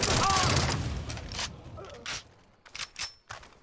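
Muffled shots from a powerful silenced gun in the shooter game Far Cry 3, a short burst at the start followed by a few scattered thuds, with game background noise around them.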